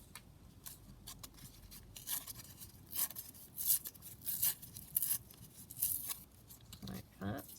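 Paper being torn by hand for a junk journal, a series of short rough ripping and rubbing bursts that grow louder toward the middle, close and fairly quiet, with faint scraping between tears.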